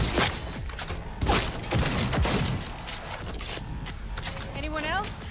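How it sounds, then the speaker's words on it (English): A firefight in the video game Cyberpunk 2077 2.0 with Phantom Liberty crackles with volleys of shots and thuds, sitting under a voice that talks over most of it. "They're opening fire."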